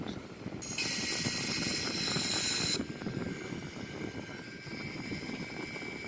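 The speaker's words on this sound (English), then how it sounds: "This is the Airbus A340 313X as we climb out." Simulated Airbus A340-313X airliner climbing out in a flight simulator game: a steady, loud engine roar with a bright high-pitched whine that strengthens for a couple of seconds, then settles into a continuous drone.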